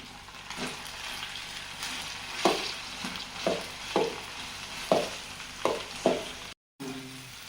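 Prawns fry in a pan with ginger paste, giving a steady close sizzle. Repeated stirring scrapes land roughly once a second, with a brief dropout near the end.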